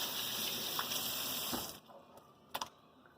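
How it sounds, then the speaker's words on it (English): Hands are washed under a running kitchen tap, a steady close gush of water for about a second and a half that stops abruptly, followed by a couple of brief splashes. "Gotta wash these filthy mitts."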